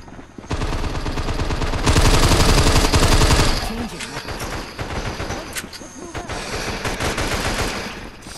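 Rapid automatic gunfire in a video game shooter, a dense, loud burst of repeated shots that peaks, then continues as scattered rattling fire.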